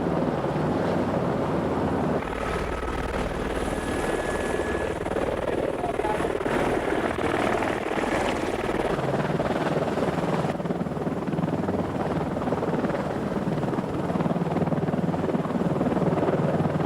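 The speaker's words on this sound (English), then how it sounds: "The National Park's Gazelle helicopter needs only a small pad to land on." A Gazelle helicopter from a national park flies overhead, its rotor beating in a steady, continuous drone at a moderate distance for the whole stretch, with no talk over it.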